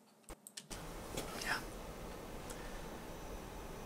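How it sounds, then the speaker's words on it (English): A few quick, crisp keypresses tap out on a computer numpad, close and quiet, followed by someone talking over faint room tone. "I'm typing this all into my numpad, 10 and enter."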